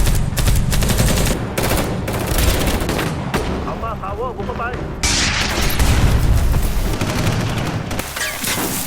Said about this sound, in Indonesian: Ray tetap memberondong dengan peluru